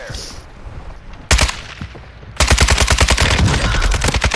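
Rapid gunfire in a tactical video game shooter: a single loud burst, a pause, then a sustained string of close, sharp automatic shots under hurried team callouts.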